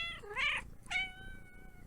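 A house cat meows twice, two loud, clear rising-and-falling cries close to the mic, separated by a short pause.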